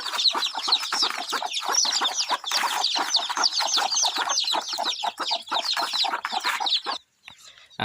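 A hen clucks in a fast, busy series of close calls, likely with other fowl joining in, the cackling running continuously before cutting off near the end.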